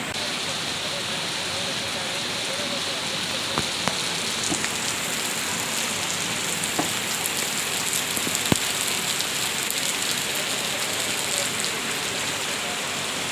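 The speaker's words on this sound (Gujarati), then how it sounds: "આમ જો બહાર વરસાદ આવે તમને બતાવી દઉં." Steady summer rain falls outside in Bhavnagar, a dense, even hiss of drops on surfaces with a few sharper ticks, continuous and close throughout.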